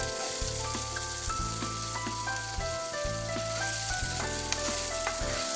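A curd and green chilli mixture frying in oil is stirred, giving a loud, continuous sizzle with background music playing throughout and no speech.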